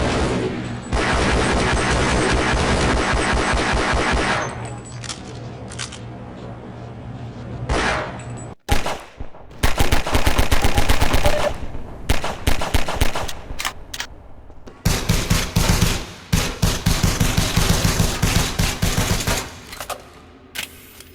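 Rapid bursts of gunfire and loud booms in Elite Dangerous Odyssey, sustained volleys broken by brief pauses, dense and close.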